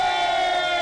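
A crowd at the Friuli Doc food festival cheering, a brief loud sustained shout of many voices.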